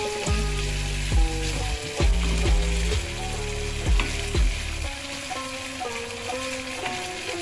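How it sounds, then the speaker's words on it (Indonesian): Meat fries in margarine in a pan with a steady sizzle, punctuated by repeated scraping stirs with a spatula, no voices over it. "kita goreng hingga daging matang dan tercampur rata dengan margarin teman-teman"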